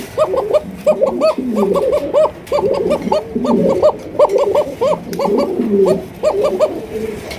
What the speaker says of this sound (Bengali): সুপ্রিয় দর্শক এখানে দেখতে পাচ্ছেন একজোড়া কাকা কবুতর এটা নট ডাকতেছে